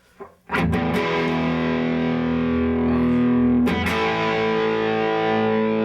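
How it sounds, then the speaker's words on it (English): Heavily distorted electric guitar through a Fulltone distortion pedal rings out in a sustained, buzzing power chord, then is struck again partway through and keeps droning loudly. "I've got this killer full-tone distortion pedal."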